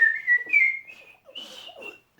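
A person whistles a few short, bright pitched phrases up close, sliding between notes with brief pauses in a quiet room.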